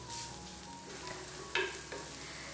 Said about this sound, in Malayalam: അപ്പോൾ നമ്മുടെ ഇഞ്ചിയും ചേർത്ത് കൊടുത്തിട്ട് വീണ്ടും നല്ലതുപോലെ എല്ലാം ഒന്ന് വഴറ്റി കൊടുക്കുകയാണ്